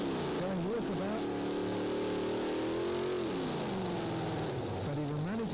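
A pulling tractor's engine roars through a run at a 1997 European tractor pulling event in Windenhof, France, loud and continuous with pitch swells and dips, with a commentator talking over it.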